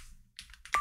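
A few quiet keystrokes tap on a small computer keyboard, brief soft clicks with a slightly sharper one at the end.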